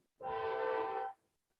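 A single steady train horn blast lasting about a second, clear and sustained with a sharp start and stop, fairly distant and alone in a quiet background.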